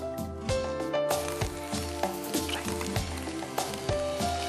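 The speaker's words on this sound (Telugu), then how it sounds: "ఫస్ట్ ఇంకా కొంచెం షాలో ఫ్రై చేయాలి." Sizzling of food being shallow-fried in oil on a stove, a soft crackle running beneath prominent background music.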